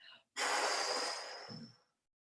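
A Pilates instructor breathes in and then blows out forcefully during a low-impact class with a small cushion: a short intake, then a long, close, breathy exhale that tapers off, with no voice.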